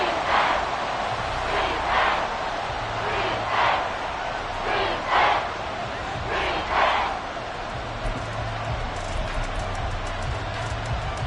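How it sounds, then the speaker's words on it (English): Stadium crowd in an American football video game roars steadily throughout, with repeated swelling cheers and chant-like bursts rising over a dense, loud wash of noise. "This crowd turning up the decibel level."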